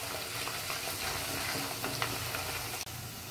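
Ginger garlic paste fries in a pan for paneer do pyaza, giving a dense, steady sizzling hiss with faint stirring scrapes and one brief knock near the end.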